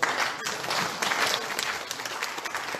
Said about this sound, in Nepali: जोडदार ताली बजाउनु